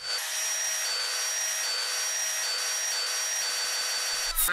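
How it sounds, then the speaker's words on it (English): A vacuum cleaner hoovers a shop floor at night, its steady, loud motor whine running unbroken throughout, with a brief bump and clatter at the very end. "I'm doing the hoovering."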